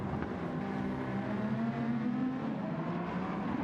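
Dodge Viper V10 race car in a racing game, a steady loud engine drone with a low rising pitch held throughout, no talk.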